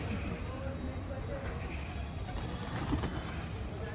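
A crooked-neck (tedhi mundi) pigeon coos softly against a noisy rooftop background, faint and fairly distant, with little else standing out.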